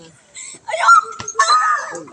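A child on a playground lets out short, high-pitched shrieks up close, with a brief sharp knock between them and children's voices mixed in.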